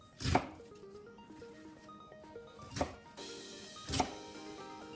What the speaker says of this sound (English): First, cut the cabbage into the 3cm squares.